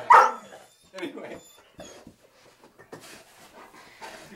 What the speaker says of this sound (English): Our dog Ozzy, I can't tell if he likes it or hates it